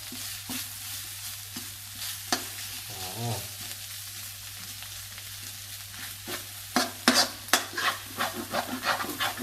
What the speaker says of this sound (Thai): ผัดไปนะครับผัดไปสักครู่ก่อนให้ ให้หนูที่เราสับเนี่ยมันเริ่มสุกหน่อยนะครับ